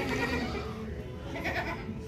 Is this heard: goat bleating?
yes